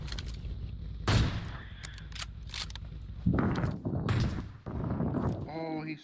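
Bursts of gunfire from the PUBG Mobile battle royale game, several sharp volleys spread across the clip and mixed with mechanical clatter, while players talk over it.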